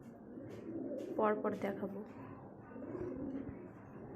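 King pigeons, round and chicken-like, give a short burst of throaty cooing in the middle, close by and moderately loud, while a person speaks around it.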